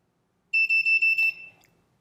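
A DIY Raspberry Pi Pico game-night timer buzzer sounds a loud, shrill electronic alarm alone, four quick beeps running together for under a second before fading with a faint trailing rattle.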